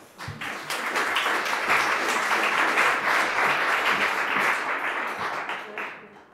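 Audience applause rings out to welcome the speaker Lynn Nadel at a lecture on cognitive maps and memory, with dense, steady clapping from a sizeable crowd lasting several seconds before tapering off.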